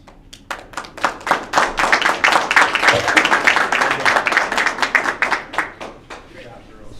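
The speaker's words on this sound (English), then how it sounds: "if we give them one more round of applause" A board meeting audience claps for students in a burst of applause that swells quickly, holds steady for several seconds, then thins to a few scattered claps at the end.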